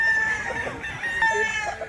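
Fighting-cock roosters kept under trees at a farm in Mantalungon, Cebu cluck and crow in a brief overlapping chorus, moderately close, with no voices.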